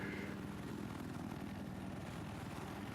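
A helicopter in a video game flies low and gives off a steady, moderately faint rotor and engine drone that holds without a break, with no talk.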